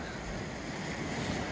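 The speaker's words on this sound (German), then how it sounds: "Hier können wir es sehen, der Wind ist auflandig." Onshore wind gusts across the microphone at Son Moll beach in Cala Ratjada, Mallorca, with steady surf rushing underneath in a broad, continuous roar.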